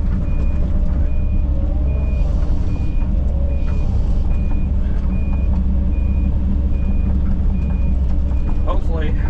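On a brush pile clearing, a wheel loader backs up with its reversing alarm beeping in a steady, evenly spaced series. Each beep cuts clearly above a loud, constant diesel engine rumble.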